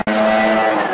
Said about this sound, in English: I got the blower right outside my window right now.